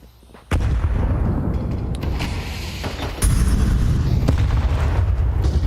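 Gunfire in a Counter-Strike match: a sharp loud shot bursts in, followed by sustained booming and crackling gunfire with a second heavy blast, loud and close.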